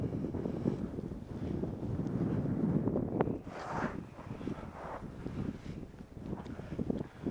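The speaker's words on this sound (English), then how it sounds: "the wind is blowing just like this" Wind gusts and rumbles across a microphone on a kitesurfing beach, a continuous blustery roar that swells and eases, with no talk over it.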